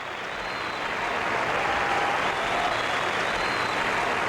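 An arena audience applauds Torvill and Dean's Olympic ice dance with steady, dense, sustained clapping that fills the whole span at an even loudness.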